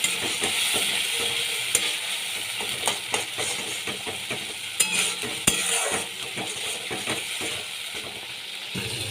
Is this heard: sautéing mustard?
yes